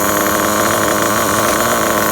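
A Losi 8ight RTR nitro RC truggy engine idles with a steady, buzzing drone that holds fairly even and loud throughout, with only a slight lift in pitch.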